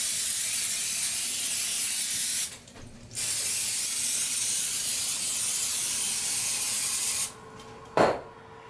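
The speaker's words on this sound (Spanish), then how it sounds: "vamos a rociarle por arriba un poquito de aceite de vegetal" Vegetable oil is sprayed over breaded eggplant slices in long, continuous close hissing bursts, broken by two short pauses and ending with a light knock.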